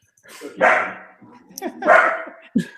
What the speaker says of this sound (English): That's my good guard dog.